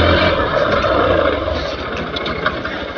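The engine of a Hero Xpulse 200 4V motorcycle idles and runs loud and close outdoors on rough farm ground, a dense, steady rumble with slight fluctuations and no talk over it.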